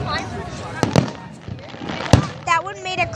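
Canada Day fireworks burst outdoors in several sharp, loud cracks and booms spaced irregularly, with crackling tails and spectators talking and exclaiming between the explosions.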